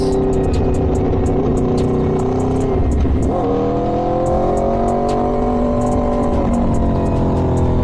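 An Aprilia Tuono V4 motorcycle with an LV Corsa carbon exhaust revs loudly and close, a sustained engine roar that dips briefly and climbs again as the revs rise, with traffic around it.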